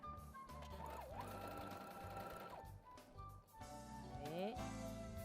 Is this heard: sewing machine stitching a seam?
yes